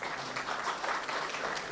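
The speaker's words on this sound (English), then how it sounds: "give a clap again." Audience clapping during a beekeeping talk about the Solomon Islands, a soft, steady patter of hands that stays fairly faint and even through the brief moment.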